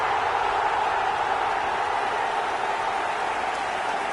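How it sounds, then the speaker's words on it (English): Football fans, including some from the opposing side, applauding a goal in a stadium: a steady, dense wash of clapping that holds at an even level throughout. "Even some of the opposing fans are clapping that"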